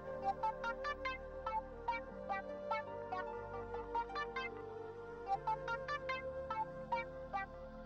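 A mobile phone rings indoors with a quiet, repeating electronic melody of short chiming notes that cycles several times in an even rhythm.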